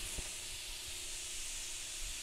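Garlic and onion sizzle steadily in melted butter, a continuous bright hiss with a brief pop near the start, close and alone without talk.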